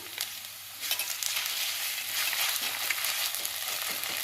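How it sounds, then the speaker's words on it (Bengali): Onions fry in oil with ginger-garlic paste stirred in, giving a close, continuous sizzle that swells louder once the paste hits the pan, with light scraping of a spoon and no talking. "এবারে পেঁয়াজগুলো খুব ভালো করে ভেজে নেব।"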